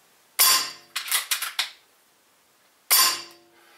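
Sharp, close shots from a Mauser K98 PCP air rifle firing H&N Field Target Trophy pellets: one crack, a quick cluster of smaller snaps, a pause, then another single crack.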